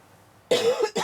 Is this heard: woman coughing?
yes